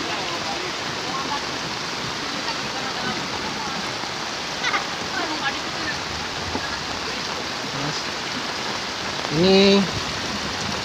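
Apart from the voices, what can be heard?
rushing floodwater flowing from the forest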